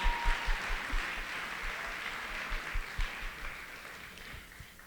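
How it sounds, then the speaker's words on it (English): An audience at a teacher recognition event applauds, a soft, distant wash of clapping with scattered sharper claps that fades slightly and carries on steadily throughout. "Please give her a round of applause."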